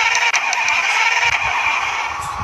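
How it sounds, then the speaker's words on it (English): Engine starting in a driving video game, a steady bright mechanical whir carrying on throughout without any talk. "Start engine."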